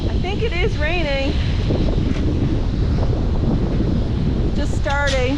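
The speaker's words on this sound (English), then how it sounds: "Just starting, but it's really, really windy." Strong wind roars steadily against the microphone inside a dairy barn with rain falling, loud and constant, with a voice briefly audible at the start and near the end.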